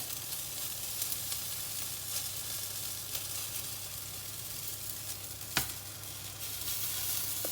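Courgette and feta fritter batter frying in olive oil in a pan, a soft, steady sizzle with faint crackles throughout and one brief clack of a utensil midway.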